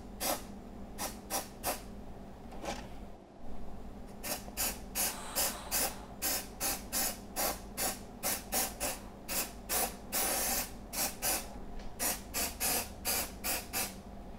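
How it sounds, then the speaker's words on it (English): Repeated short hissing bursts of mold release sprayed onto glass, coming in quick rhythmic groups with brief pauses between them, fairly close and moderately quiet. "I'm gonna spray this again with a few coats of our mold release"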